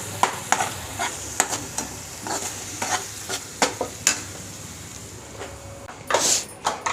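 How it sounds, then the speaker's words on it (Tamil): Spice masala with chilli powder, turmeric, asafoetida and salt being stirred in a pan, close up, with repeated sharp spoon scrapes over a soft, continuous sizzle. "இப்போ இதில் நான் மிளகாத்தூள், மஞ்சத்தூள், பெருங்காய பவுடர், சால்ட் எல்லாமே ஆட் பண்ணி கொஞ்சம் லைட்டாக கலரிக்கோங்க."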